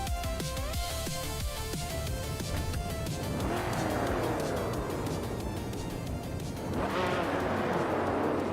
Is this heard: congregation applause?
no